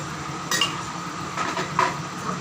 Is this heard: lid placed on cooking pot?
yes